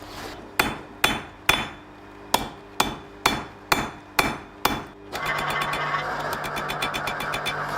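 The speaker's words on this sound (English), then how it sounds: "Hammer, hammer, hammer, hammer. Where's the hammer?" Nine sharp, ringing hammer blows land on hot metal while forging an arrowhead at an even pace, then a loud continuous mechanical rumble with rapid rattling takes over.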